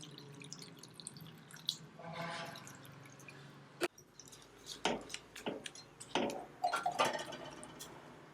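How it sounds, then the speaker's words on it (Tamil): Water poured into a pan over broad beans (patta avarakkai) in a home kitchen, heard as quiet splashing and dripping with a few sharp clinks and taps, faint and close. "முழுகிற அளவுக்கு தண்ணி விட்டுட்டு"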